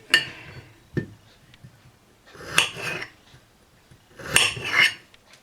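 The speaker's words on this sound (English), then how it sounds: "Here we go, add it to the bowl." Cut potato wedges dropped into a bowl, several loud close clattering bursts spaced a second or two apart, with no talking.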